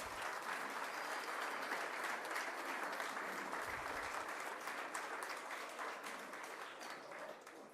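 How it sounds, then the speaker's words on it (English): Sustained audience applause at an inter-collegiate hockey trophy ceremony, loud and steady throughout, slowly thinning toward the end with no talking over it. "Can we have a big round of applause?"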